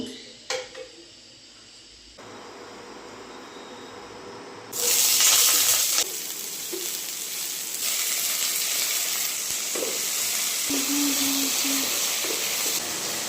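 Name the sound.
washing vegetables under running water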